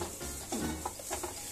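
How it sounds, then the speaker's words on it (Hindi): Almonds stirred and slowly roasted over low heat in a pan for almond halwa, giving a soft continuous scraping and faint sizzle with a few louder stirring strokes, close and steady. "और इसे धीमी आंच पे ही भूनिएगा।"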